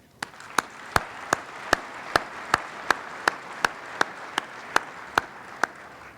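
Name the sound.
audience applause at State of the City address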